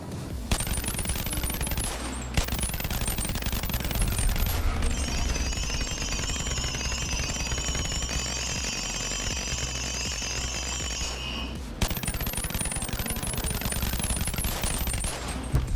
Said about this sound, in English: Next up is the Glock Hyper with 500 round mags.